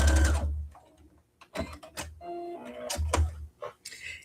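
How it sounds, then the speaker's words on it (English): Sewing machine stitching a straight line on a tote bag, short bursts of rapid mechanical whirring and clatter separated by brief pauses, close and fairly quiet. "I'm just going to sew down a straight line"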